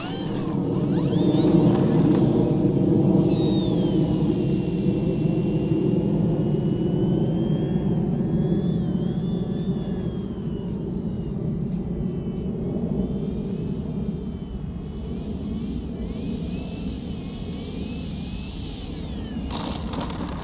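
Avios Grand Tundra Plus, a 1700 mm EPO sport model airplane, flying with a steady electric motor whine and airy rumble that swells and fades slightly as it passes, continuous and moderately loud outdoors.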